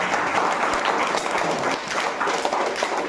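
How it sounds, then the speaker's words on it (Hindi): Congregation clapping in a church: steady, dense applause from many hands, fairly loud and close, holding evenly for the whole stretch with no voices over it. "एक बार ताली बजाइए"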